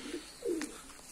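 Tumbler pigeon chicks give a single soft, low coo, quiet and close, with faint chirps around it in a calm garden loft.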